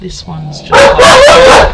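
Several dogs barking loudly and excitedly close by, overlapping in a burst after a moment of quieter sounds, with a person talking over them.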